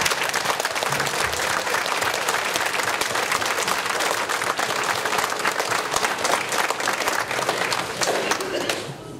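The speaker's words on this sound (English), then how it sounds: "Here we give Sergeant Langman a round of applause." A crowd claps loudly and continuously at a village inauguration ceremony, a dense steady roar of applause with voices mixed in.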